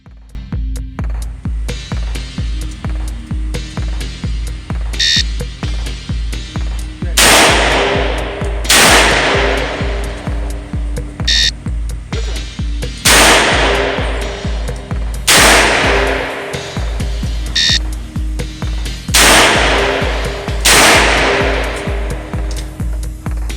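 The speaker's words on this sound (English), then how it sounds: "On command, fire 2 rounds in 5 seconds, unload and safe the firearm." A Colt MKV Trooper revolver fires at an outdoor shooting range in three pairs of loud, sharp shots spaced several seconds apart, over a steady rhythmic ticking in the background.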